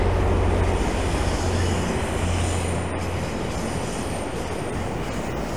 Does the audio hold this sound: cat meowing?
no